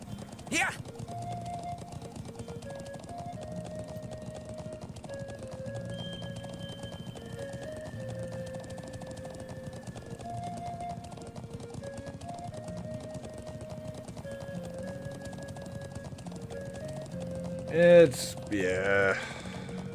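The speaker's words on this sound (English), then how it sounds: "There's the horse." Horse hooves clip-clop at a steady gallop in the video game Trails of Cold Steel, over looping game music, ending with a short loud whinny or effect burst.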